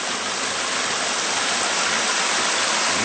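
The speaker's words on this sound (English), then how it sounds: "Oh, and then here's that creek." A small creek beside a forest trail runs with a steady, broadband rush of flowing water that stays close and even throughout, with no voices over it.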